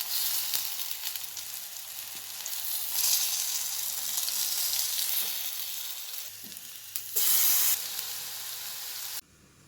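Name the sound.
curry leaves sizzling as they fry in hot oil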